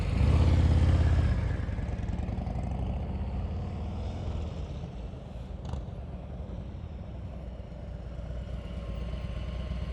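A motorcycle riding at slow speed on a practice course, a steady low engine drone that is louder at first, then eases to a constant mid-level rumble with no talking.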